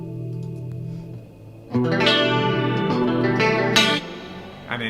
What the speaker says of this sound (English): still really big reverb.